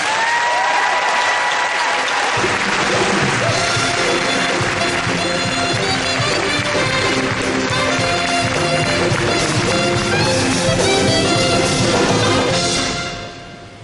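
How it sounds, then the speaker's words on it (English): Large convention audience at the Disney D23 Expo breaking into sustained, loud applause that fills the hall for over ten seconds before tailing off at the end, with no speech over it. "a big round of applause for Mickey Mouse."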